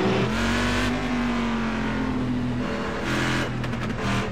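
Corvette race car engine in a GT sim racing game at Motegi, heard on board: a loud, continuous drone holding high revs, easing slightly mid-lap then climbing again, alone without talk.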